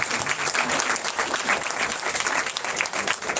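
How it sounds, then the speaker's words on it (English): Audience applause at a student research conference award ceremony, a steady dense round of clapping from a crowd, fairly loud and continuous throughout. "A round of applause for her."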